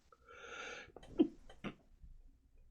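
A single quiet sneeze with a sharp burst in the middle, framed by soft breaths and a small follow-up exhale, close to the microphone.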